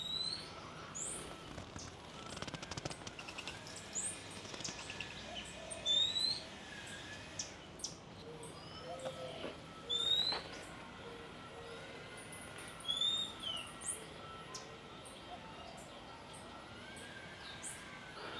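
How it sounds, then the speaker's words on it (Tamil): Birds in a large walk-through aviary at Bird Paradise, Mandai Wildlife Reserve, Singapore: scattered sharp chirps and whistled calls from several birds, some near and some farther off, over a soft ambient hum. "அதே போல் இந்த கூட்டுக்குள்ளால் நிறைய விதமான பறவைகள் இருக்குது."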